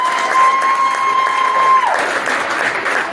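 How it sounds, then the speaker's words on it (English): Loud, sustained applause and cheering fill a swim team banquet room for the graduating senior class, with a steady electronic tone sounding over the crowd before it drops away. "So one more round of applause for your class of 2023"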